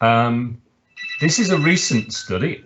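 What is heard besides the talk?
telephone ringing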